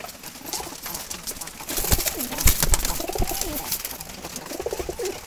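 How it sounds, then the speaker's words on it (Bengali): A maxi Jalali pigeon coos close by in a series of soft, rolling, repeated calls over a noisy background, with no talking. "এটা একটা মাক্সি জালালি কবুতর"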